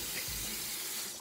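Water runs from a tap into a sink during a squishy toy makeover, a steady close rushing stream that continues for the whole moment without talk.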